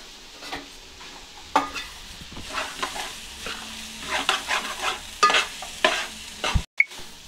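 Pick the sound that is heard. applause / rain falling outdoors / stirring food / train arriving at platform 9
stirring food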